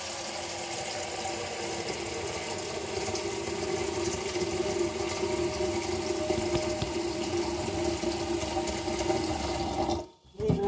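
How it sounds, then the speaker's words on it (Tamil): Tap water runs steadily into a cooking pot in a kitchen, a continuous rushing, splashing stream that holds level, then cuts off abruptly near the end. "அதனால் கொஞ்சம் கூட தண்ணி பிடிச்சி ஊற்றுவோம்"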